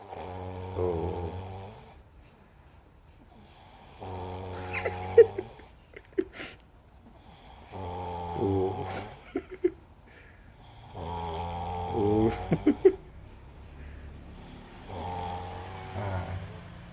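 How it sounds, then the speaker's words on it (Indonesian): A sleeping person snores loudly in five long, regular rasping breaths, each roughly two seconds with short quiet gaps between, close and alone, with a few faint clicks in the pauses. "Kalau lagi tidur, dia pasti ngorok."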